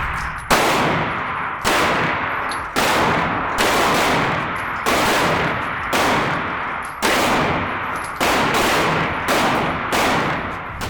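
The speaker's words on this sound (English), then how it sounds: "We're just gonna fire 10 rounds and we're gonna score it up." Pistol fire on a shooting range, ten rounds aimed at a bullseye target, heard as loud evenly spaced sharp shots repeating about once a second, each with a short ringing decay.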